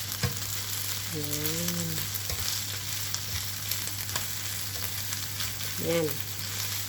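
Fried rice with cooked egg being stirred and mixed in a hot pan, a steady close sizzle with scraping stir strokes, while a voice speaks briefly twice.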